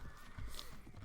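Horses galloping in the Viking Conquest expansion of the video game Mount and Blade Warband, a quick patter of hoofbeats over a short stretch of battle noise, fairly faint and without talk.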